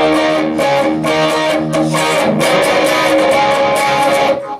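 Electric guitar riff, open E palm-muted notes chugging in a driving rhythm with accented chords, loud and moderately distorted, with no voices.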